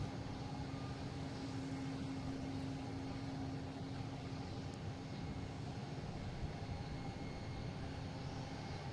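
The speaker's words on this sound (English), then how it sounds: "And a JetBlue coming in from JFK. A220." A JetBlue Airbus A220 arrives from JFK at Boston Logan, its engine noise a faint, steady distant rumble with a thin whine, unbroken and without speech.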